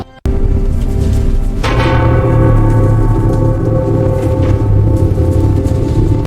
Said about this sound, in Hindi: सुबह होते ही मंदिर में घंटियां बजने लगती हैं।